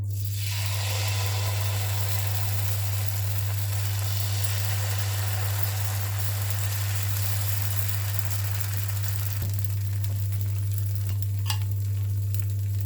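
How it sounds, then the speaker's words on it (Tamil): Oats dosa batter sizzling on a hot pan, a steady close frying hiss that runs unbroken throughout under a constant low stove hum, with a faint clink near the end. "இப்போ இன்னொரு தோசை ஊற்றுறேன்"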